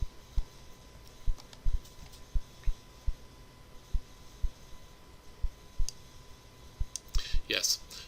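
A computer mouse clicks repeatedly at an irregular pace while filling in a database form, sharp close taps spread across the stretch, with a brief voice near the end.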